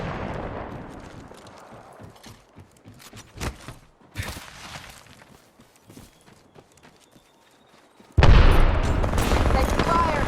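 Apex Legends gunfire, sharp loud bursts and impacts scattered among quieter in-game clatter, ending in a sudden sustained roar of heavy firing or explosion noise.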